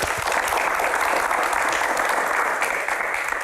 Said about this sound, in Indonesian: Raja Konser, tepuk tangan.